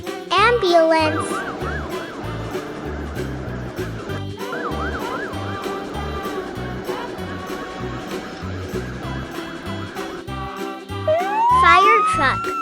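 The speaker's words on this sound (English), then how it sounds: "Ambulance." An ambulance siren wails in a steady, repeating rising-and-falling pattern, loud and close, over a bouncy music beat in a children's vehicle-sounds lesson.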